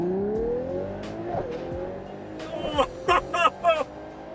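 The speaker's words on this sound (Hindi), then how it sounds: "अगर मैं मैनेटिनो को चेंज करूं और रेस मोड में डाल दूं और अगर मैं थ्रॉटल पूरा दबाऊं, I'll go down a few gears." A Ferrari 12 Cilindri V12 accelerating hard at full throttle in race mode, its engine note rising steadily with quick downshift blips and sharp bursts toward the end, loud and close inside the cabin.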